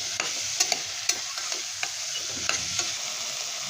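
A frying mixture for a fresh field-bean rice dish is stirred in a pan, with a continuous bright sizzle and a run of regular scraping strokes from the spoon, close by and with no voices.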